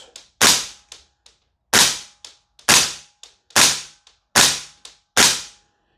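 Six sharp, loud airsoft shots from a Salvo Precision SURG gas blowback rifle, a few with light strikes, each a crisp crack with a quick decaying tail, spaced roughly evenly, with faint mechanical clicks between them and no talking.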